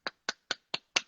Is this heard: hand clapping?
yes